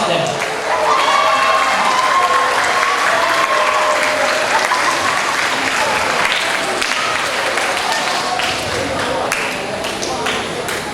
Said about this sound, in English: Let's hear your loudest applause for them.